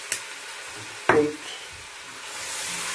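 Spaghetti bolognese sauce being stirred in a frying pan, a low continuous sizzling hiss broken by one short, close scrape of the spoon across the pan.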